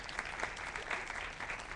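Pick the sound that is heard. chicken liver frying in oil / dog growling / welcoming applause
welcoming applause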